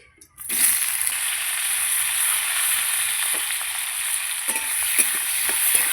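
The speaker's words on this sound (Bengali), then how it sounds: "আমি এবার তেল দিয়ে দেবো কাঁচকলাটা ভেজে নেব কাঁচকলাটা দিয়ে দিচ্ছি" Raw green banana pieces frying in hot oil in a wok, giving a steady loud sizzle that starts abruptly and continues alone with occasional stirring crackles.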